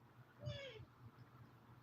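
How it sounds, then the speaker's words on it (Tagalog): A pet cat gives a single short rising-and-falling meow, fairly close, over a quiet room background. "Sana mag-viral uli yung pusa ko."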